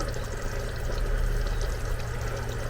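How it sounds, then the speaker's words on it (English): Coconut milk pours into a pan while cooking butter chicken inside a van, giving a close, continuous liquid gurgle and splash that runs steadily without a break and with no voices. "I'm going to add the coconut milk and probably a little bit more water"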